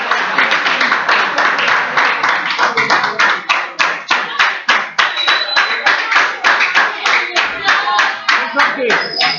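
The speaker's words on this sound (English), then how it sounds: "Okay, clap for them." Students in a science classroom clap together in a loud, sharply rhythmic unison pattern of repeated hand claps, close and continuous, with a few voices briefly audible.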